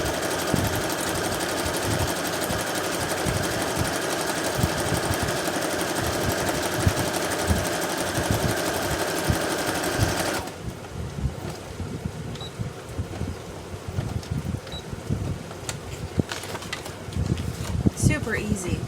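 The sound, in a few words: sewing machine zigzag stitching journal pages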